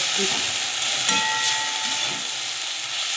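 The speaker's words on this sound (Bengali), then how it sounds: "নিয়ে এবার ঢেঁড়সের সঙ্গে মিশিয়ে একসঙ্গে সব ভাজবো।" Okra and poppy seeds frying together in a pan give a steady, close sizzle with faint stirring scrapes, no one speaking.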